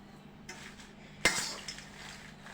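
Dried red chillies go into a pan and are stirred for Guntur karam podi. Quiet metallic clatter and scraping are topped by one sharp clink midway, with no talking.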